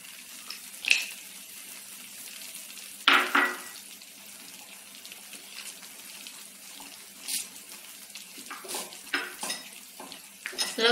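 Dry fruit halwa being stirred in a pan with ghee, giving intermittent scraping and clinking strokes at close range, with a few louder knocks between quieter stretches of low kitchen noise.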